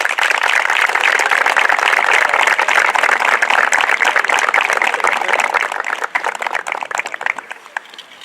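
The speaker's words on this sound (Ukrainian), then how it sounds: "давайте гучними оплесками її привітаємо" A crowd at an award ceremony for a memorial tournament gives loud, sustained applause, many hands clapping densely and evenly before thinning out toward the end.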